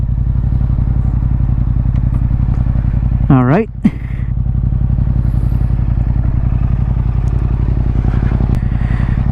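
A 2021 Yamaha MT-07, 689 cc, fitted with a new exhaust idles loudly and close with a steady low throb, a brief sharp rev rising and falling midway, while someone talks over it.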